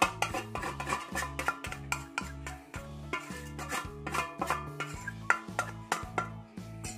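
A spoon stirs a dry mix of flour, garlic, onion, paprika, thyme and salt in a bowl, making rhythmic scraping and clinking strokes, close and steady throughout, with background music.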